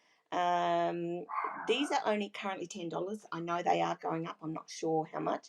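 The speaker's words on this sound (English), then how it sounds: "that's my dog barking in the background" A pet dog barks repeatedly in the background of a home crafting room, sharp yips and barks heard under a woman's steady close-up talk.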